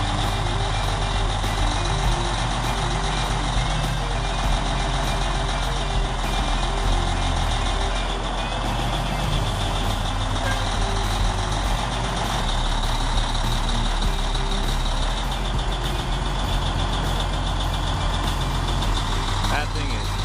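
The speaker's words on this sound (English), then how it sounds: "As the truck arrives loaded with a massive tree trunk, this iron beast moves in." A logging truck loaded with a massive tree trunk rumbles loudly and continuously at close range, its engine droning while reversing beeps repeat over it, with someone talking throughout.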